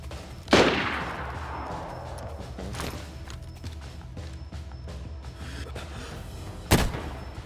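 Gunshots in DayZ: one loud sharp report with a long decaying tail, a fainter shot near the middle and another loud crack near the end, over low ambient background.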